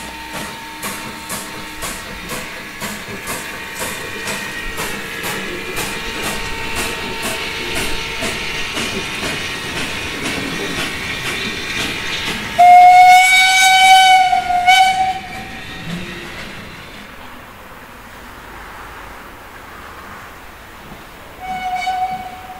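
A Krupp Hannibal-type colliery steam locomotive of about 200 hp, shunting a freight train, chuffs rhythmically with a hissing background, then blasts a loud, sustained whistle and falls quieter, ending with a short whistle.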